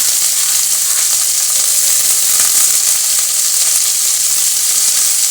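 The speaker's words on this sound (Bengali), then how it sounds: "সব সবজিগুলো দিয়েই ভালো করে ভাজবো গাজরগুলো প্রথমে দিয়ে দিলাম" Carrots and mixed vegetables fry in fish oil in a home kitchen pan, a loud, dense, continuous sizzle close up with steady crackling and no voices.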